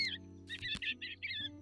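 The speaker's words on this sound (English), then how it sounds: "I like these birds. Chickadees." Several short high chirping chickadee calls from a bird-raising video game, in quick bursts over a steady low music bed, fairly clear and close.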